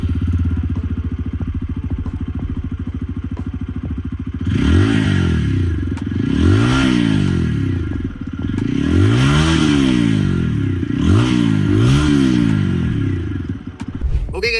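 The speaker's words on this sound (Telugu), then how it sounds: "ఈ బైక్ ఎగ్జాస్ట్ నోట్ ఎలా ఉందో ఒకసారి చూద్దాం మనం" A 2025 TVS Apache RTR 160 4V motorcycle idles with a steady, throbbing exhaust, then the throttle is blipped four or five times in sharp rising-and-falling revs, loud and near.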